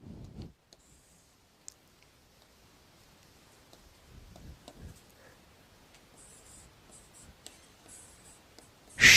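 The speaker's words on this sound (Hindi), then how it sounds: "धातुएं यहां लिख दे रहे हैं थोड़ा सा" Faint, scratchy marker or chalk strokes on a board during a Sanskrit grammar lesson, soft irregular writing sounds with light clicks, quiet room, ending in a louder knock.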